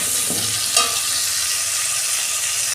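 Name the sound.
potatoes frying with salt and turmeric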